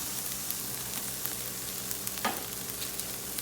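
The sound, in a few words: garlic frying in a pan for sweet potato chorizo hash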